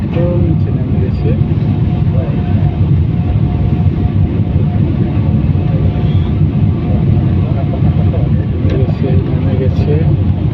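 An airplane landing on a runway gives a continuous low, loud rumble that holds steady for several seconds, with people talking excitedly over it.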